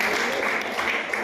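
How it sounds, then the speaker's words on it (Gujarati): Applause from an audience welcoming students on stage at an honours ceremony for bright students, as dense continuous clapping with a few voices mixed in. "ખૂબ ખૂબ તાળીઓથી વધાવી લેજો।"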